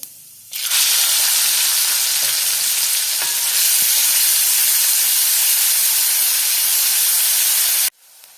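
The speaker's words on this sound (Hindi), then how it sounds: "जीरा अच्छे से फ्राई होने के बाद प्याज डालेंगे" A loud, steady sizzle erupts as cumin and onions hit hot oil, frying with constant hiss for several seconds before abruptly cutting off, while cooking a yam (suran) curry.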